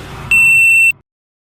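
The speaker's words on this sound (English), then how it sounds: "This message will self-destruct in 5," A self-destruct countdown alarm gives one loud, sustained electronic beep lasting about half a second, standing alone and ending abruptly.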